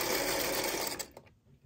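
A sewing machine stitches a vintage strawberry quilt block, running as a loud, close, steady whir for about a second before slowing and stopping, leaving near silence.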